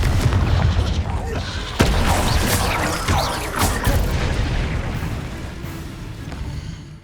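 Confringo blasting spell in the Hogwarts Legacy video game, with loud booming explosions and crashing impacts one after another over a busy battle din, gradually easing off toward the end.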